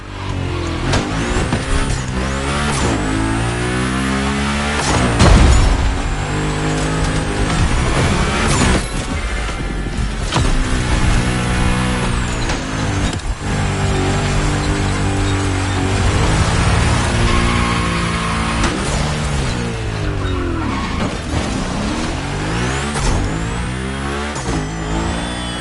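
Cars race hard and loud, engines revving and climbing through the gears with repeated shifts and passes, a continuous roar with no voices.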